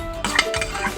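A spoon scrapes and stirs fried onion paste in oil in a metal pan while cooking a cashew and makhana curry, giving a steady close scraping and sizzling clatter with no talk.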